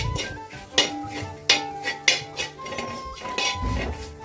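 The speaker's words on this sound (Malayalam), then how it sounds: "അപ്പോൾ തീ കുറച്ചിട്ടിട്ട് വേണം ഇതൊന്ന് നമ്മുടെ മസാലേൻ്റെ പച്ച മണം ഒന്ന് മാറണ വരക്ക് നമുക്കിതൊന്ന് വഴറ്റിയെടുക്കേ." Chicken masala for chicken mulakittathu is stirred and sautéed in a pan. A utensil scrapes and clinks sharply against the metal every half second or so, with soft stirring and a faint sizzle between the strokes.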